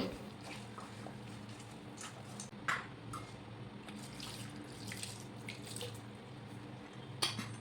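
Water is poured onto beef in a pot to boil it for cooking, a soft steady trickling stream with a few faint clinks, quiet and close, no talking.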